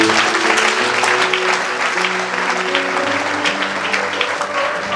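A church congregation at a Sunday service claps together in loud, dense, steady applause that fills the room, with voices murmuring underneath and a low sustained tone running throughout.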